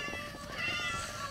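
A cat meowing inside the Minecraft video game, several soft game meows and ambient game sounds running steadily for over a second, with no voices.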